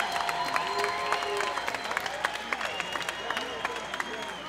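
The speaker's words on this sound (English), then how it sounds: "let's give both of these fighters a big round of applause" An MMA event crowd applauds and cheers both fighters before the scorecards, a loud reverberant arena roar with scattered claps and whistles, and an amplified voice echoing through the hall over it.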